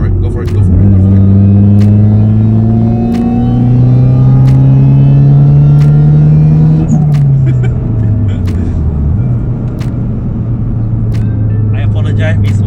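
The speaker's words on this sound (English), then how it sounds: "There's a delay the moment when you release the clutch for the supercharger to kick in." A supercharged 1999 Toyota Altezza RS200 with a manual clutch accelerates hard, its loud, close engine note climbing steadily, dipping briefly at a gear change, then pulling upward again.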